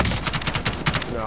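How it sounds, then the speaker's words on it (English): Rapid automatic gunfire in the online shooter Call of Duty Warzone, with dense bursts of close shots cracking one after another through the whole short stretch. "I'm taking fire!"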